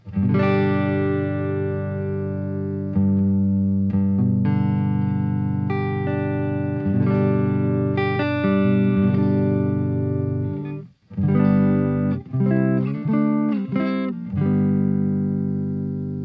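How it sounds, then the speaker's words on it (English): Fender Custom Shop set-neck Stratocaster from 1993, played through its Lace Sensor Blue neck pickup, rings out in warm, sustained chords and single notes, loud and continuous with one brief pause near the end and no talking. "So the Fender Lace Sensor Blue pickup."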